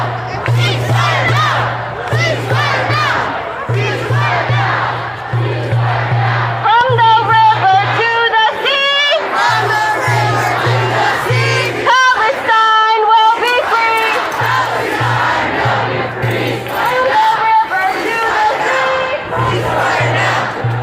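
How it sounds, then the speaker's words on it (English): A large protest crowd in Washington, D.C. roars and cheers, voices chanting and shouting together in rhythmic bursts, dense and loud, with a steady low hum running through much of it. "Huge crowd in D.C."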